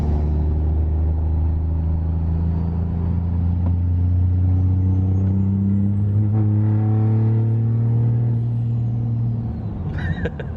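A nitrous-powered Cummins diesel truck engine runs loud, with a deep, heavy rumble and rising tonal drone as it slowly builds. It ends in a short burst of clatter near the close, with no voices over it.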